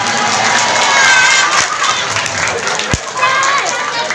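A crowd at a Maulid Nabi gathering in a mosque cheers and applauds loudly and continuously, with shouting voices and clapping blended together and a couple of sharp knocks.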